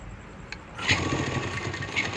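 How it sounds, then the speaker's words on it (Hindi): A sewing machine stitches a doll dress, a steady mechanical whir that starts after a short quiet lead-in and keeps running close by at a moderate level. "अब हम यहाँ पर दूसरी सिलाई लगाएंगे"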